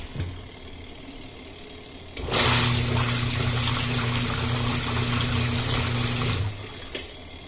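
A Sanyo washing machine under repair runs its wash cycle: after a quiet room hum, a loud steady motor drone with sloshing water churn starts at about two seconds, holds evenly, then cuts off near the end.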